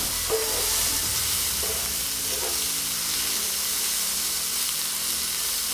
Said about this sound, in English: I'm adding in mushroom and followed by corn and stir them. Let them mix well with the onion.